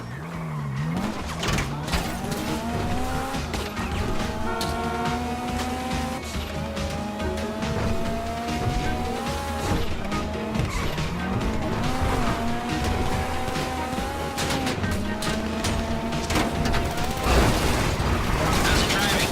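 A heist car in GTA Online drives hard with a loud engine and repeated tire squeals and skids that rise and fall across the whole stretch, accompanied by mechanical clatter and no speech.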